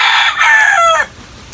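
A rooster crows once, loud and close, a single drawn-out call that ends abruptly, heard alone on a rural farm with no talking over it.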